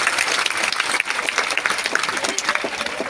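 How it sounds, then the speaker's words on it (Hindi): Dense audience clapping at a martyr's death anniversary gathering in a pandal, steady and loud throughout with faint crowd noise mixed in. "ताली बजाते रहें।"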